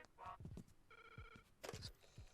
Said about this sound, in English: Ooh, we got a phone call.